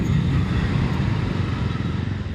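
A 2026 Bajaj Dominar 250 motorcycle pulls hard in sixth gear, a steady low engine drone with wind rumble heard from the rider's position, briefly and without speech.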